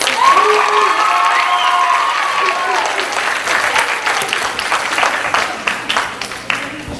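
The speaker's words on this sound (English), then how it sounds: "One more round of applause for our 8th graders." Audience applause and cheering for 8th graders at a middle school recitation and drama competition, a dense wash of clapping that starts loud with some whoops and voices over it, then thins into scattered claps by the end.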